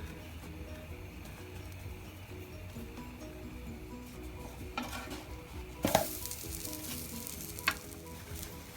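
An oiled gözleme flatbread fries on a pan with a soft, steady sizzle, joined near the end by a few sharp clinks and scrapes of a utensil against the pan, close and quiet with no talk.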